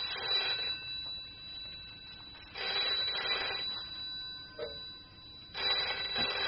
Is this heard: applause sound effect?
no